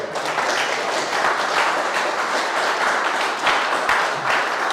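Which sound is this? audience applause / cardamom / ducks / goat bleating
audience applause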